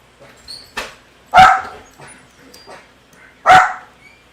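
A dog barks nearby indoors in a few sharp, loud bursts with quieter yips and whimpers between them, two strongest barks about two seconds apart against an otherwise quiet room.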